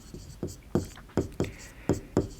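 Marker or chalk strokes on a board during a maths lesson, sounding as a series of short scratchy taps in an uneven rhythm, close and clear, with no speech over them.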